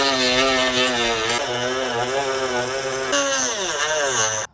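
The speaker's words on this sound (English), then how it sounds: "So I'm going to Dremel that down and sort of clean that up a little bit" Dremel rotary tool grinding down a plastic battery box near a car's firewall, a loud, continuous high-pitched whine that wavers in pitch as the bit bites and eases, stopping abruptly at the end.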